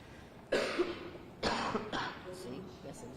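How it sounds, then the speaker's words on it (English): A man coughs sharply a few times at close range, with throat-clearing sounds between the bursts, over a low room background. "He coughed."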